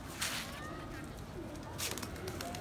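Young Badshah breed pigeons coo softly in a couple of short murmuring calls amid low background rustle, fairly close and fairly faint, with no clear talk.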